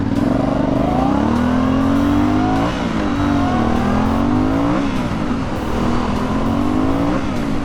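Aprilia Shiver 900 motorcycle accelerating hard from 0 to 60 mph, engine revs climbing and dropping through several gear shifts, loud and close with steady wind rush throughout.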